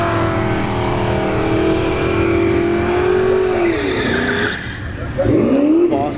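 A G-body drag car with a Boss 302 Fox-block engine revs hard and accelerates away on a dragstrip, a loud rising roar that drops off, then a brief tire chirp, with a voice talking over it.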